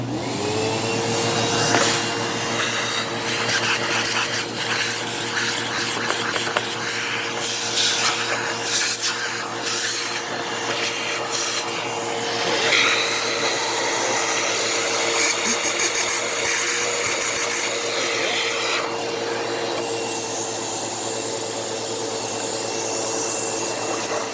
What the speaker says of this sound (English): So we just grab a vacuum and just clear that out.